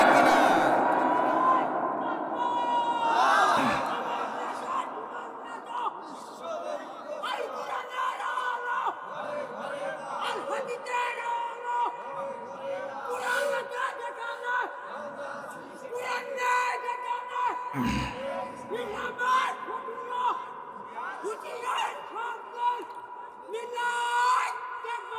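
A large crowd at an outdoor Bangladeshi religious gathering roars back in a sustained collective shout, loud and continuous for the whole stretch, with a voice carrying over the swelling noise.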